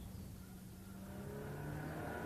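A Cosworth car engine roars steadily and loudly with a deep, even drone that holds throughout, with transmission harshness and no pause or speech.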